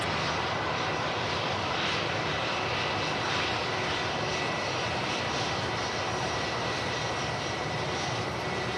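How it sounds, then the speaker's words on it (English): Steady roar of a Boeing 787 Dreamliner jet aircraft moving at Manchester Airport, a continuous distant engine rumble and whine with no talk. "that's Dreamliner positioning in from London Gatwick"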